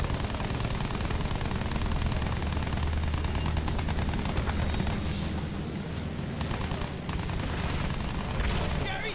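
Gunfire from a teammate in Battlefield 1, dense continuous bursts of shooting mixed with battle rumble and explosions, loud and sustained with talk over it.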